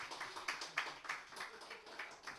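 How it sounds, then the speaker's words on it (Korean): A congregation at a Sunday afternoon church service claps in welcome: faint, steady rhythmic hand claps repeating in a quick, even beat. "박수로 환영하겠습니다"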